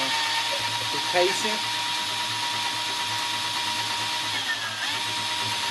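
A power drill with a step drill bit whines steadily through metal, continuous and close, with a voice speaking briefly over it.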